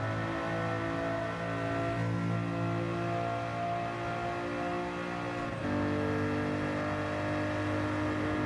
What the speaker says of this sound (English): That's my nitrous.